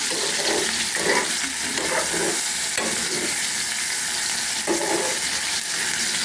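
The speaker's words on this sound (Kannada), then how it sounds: "ಸ್ವಲ್ಪ ಎಣ್ಣೆಯಲ್ಲಿ ಬಾಡಿಸಿ ಬದನೆಕಾಯನ್ನು ಚೆನ್ನಾಗಿ ಹೀಗೆ ಬಾಡಿಸಿ" Brinjal sautéing in a little oil in a pan, a steady close sizzle broken by soft, repeated stirring scrapes, with no voices.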